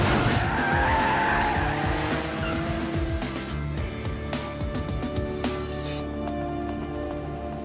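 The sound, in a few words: car driving off with tires skidding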